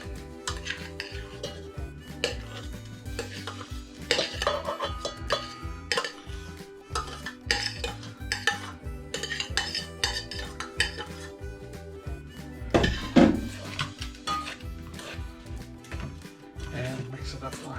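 A utensil stirs and scrapes a mash around a bowl, giving repeated close clinks and scrapes of metal on the dish at an uneven pace, with a voice talking over part of it.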